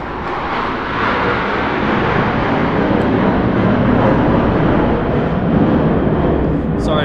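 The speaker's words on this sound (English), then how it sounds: "There's airplanes passing by. My shop is right next to a Marine Corps Air Base." Military airplanes pass over a workshop beside a Marine Corps Air Station, a loud, continuous broadband engine roar that swells slightly and fills the whole stretch.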